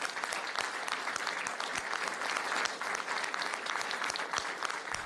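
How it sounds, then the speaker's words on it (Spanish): Spontaneous applause from a group of colleagues, a dense, steady clapping that fills the room at an even level from start to finish, with faint voices mixed in. "Sus colegas la apoyaron con un espontáneo aplauso que la emocionó hasta las lágrimas"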